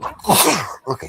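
A single abrupt sneeze bursts out close by, loud and broadband, followed by a short spoken word.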